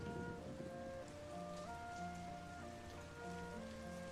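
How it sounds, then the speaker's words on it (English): Heavy rain pours down steadily in a flash visual novel game, a constant hiss of drops on surfaces beneath soft sustained musical tones, quiet and unbroken, with no voices. "Heaven is throwing rain onto you, telling you to give up."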